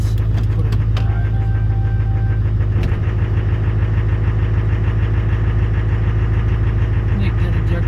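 A 2005 LBZ Duramax diesel engine idling after a cold start, with an injector issue, a loud steady rumbling drone with faint clatter throughout, close up, no talk over it.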